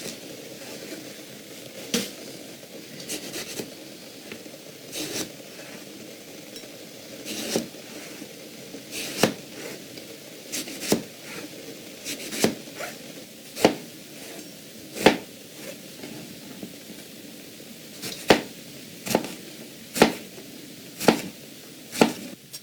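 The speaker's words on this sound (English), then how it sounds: "I like to cut the eggplant into 1/4-inch pieces." A knife chops an eggplant into quarter-inch pieces, with sharp, close knocks against a cutting board coming singly and in uneven bursts over a quiet background.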